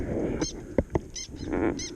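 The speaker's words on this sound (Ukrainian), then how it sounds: "чайки зараз заклюють, тому що напевно я десь наблизився до їхнього гнізда з малюками" Gulls calling near their nest by the water during summer fishing, several harsh honking cries spaced out across the moment, fairly close and loud, with a couple of sharp knocks in between.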